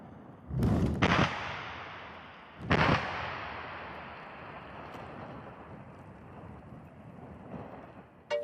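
Mine blasting at an Algerian mine site: two deep booming detonations, then a third, each rolling out into a long low rumble that slowly fades over distant wind noise.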